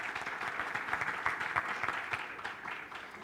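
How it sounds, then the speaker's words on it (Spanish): Audience applause at a corporate HR conference panel on data protection, a steady wash of many hands clapping, moderately loud and continuous throughout, with faint voices underneath. "Un gran aplauso también."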